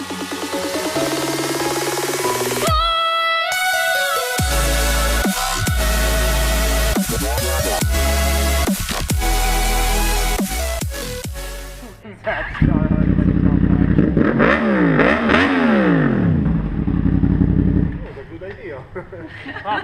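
Yamaha FZ-10/MT-10 with an SP Engineering exhaust and cat delete, loud close engine with sharp repeated revs and choppy bursts, then a rougher, fluctuating roar with rising and falling pitch sweeps near the end.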